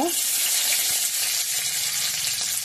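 Garlic sizzling in hot mustard oil with black cumin seeds, a steady dense crackle of frying that fills the whole moment without pause.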